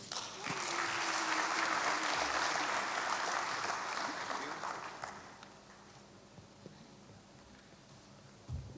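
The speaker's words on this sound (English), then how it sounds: "a round of applause for the German Development Corporation" Applause from an audience at the opening ceremony of a development and innovation week in Ghana, loud and sustained for about five seconds before thinning to scattered claps, with a low tone running underneath.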